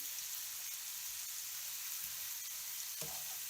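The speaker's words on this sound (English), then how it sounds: "I'm just tossing it. I'm going to stir it." Vegetables tossed and stirred in a hot frying pan, giving a continuous quiet sizzle with a few soft scraping stir sounds, no talking.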